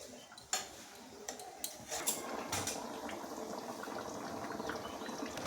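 A pot of curry bubbling at a simmer, with a soft continuous boil and a few light clinks near the start.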